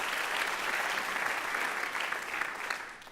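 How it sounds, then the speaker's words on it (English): An audience at a Butler University talk applauds steadily for a guest, a dense, even wash of clapping that holds for the whole stretch and tapers slightly at the end. "Round of applause for Ben."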